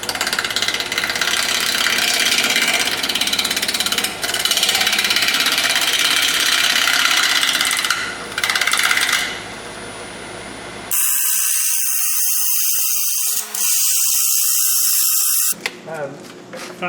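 A wood lathe spins a black gum walnut and resin blank, giving a loud, steady mechanical whir and rattle that cuts out briefly and returns, with no talking over it.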